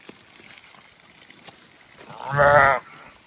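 A sheep on an Australian homestead gives a single loud, harmonic bleat near the mic, about half a second long, over quiet outdoor background.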